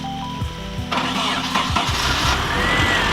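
A gold Nissan 240SX starts up: the starter cranks in short rhythmic bursts, then the engine catches and settles into a steady, fairly loud idle with a faint rising whine.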